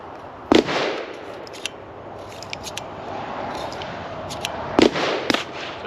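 A revolver fired at a shooting range, two loud, sharp cracks a few seconds apart with brief ringing tails and faint clicks between them.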